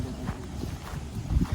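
A horse at a farm tourism park in Serang, with a few soft hoof clops on the ground in a brief, quiet stretch of outdoor ambience.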